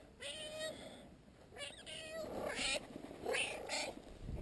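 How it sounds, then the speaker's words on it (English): A cat meows repeatedly, insistent and close, with several drawn-out cries in a row over faint background noise. "All I hear right now is this noisy cat"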